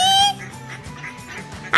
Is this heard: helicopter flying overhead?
no